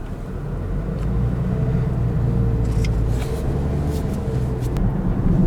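A 2019 Toyota Corolla Hatchback SE cruises along a road, giving a steady, quiet low rumble of engine and tyre noise that stays even throughout, with a few faint higher clicks near the end.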